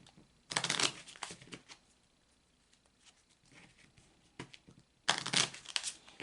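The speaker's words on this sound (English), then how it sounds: "You can see me actually shuffling the cards." A deck of Kipper cards is shuffled close by in two crisp, riffling bursts, one near the start and one near the end, with faint handling noises in the quiet gap between them.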